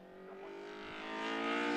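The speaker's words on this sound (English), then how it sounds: "Car still sounds good in my ears as he powers up the straight" A race car in the SMRC Sports & Saloons series powers out of a turn and up the straight, its engine note climbing steadily and growing louder, a sustained high-revving drone with no voices over it.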